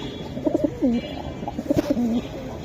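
Silver Giribaz pigeons coo nearby in two soft, throaty bursts, each a few quick rolling notes ending in a drawn-out warble.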